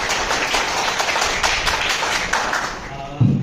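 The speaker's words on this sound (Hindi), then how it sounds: "मैं चाहता हूँ कि आप सब लोग अपने खुद के लिए जोरदार तालियां बजाएंगे" Audience at a talk on investment properties in Nagpur applauding loudly for themselves, a dense steady wash of many hands clapping that fills the room, ending with a brief low thump.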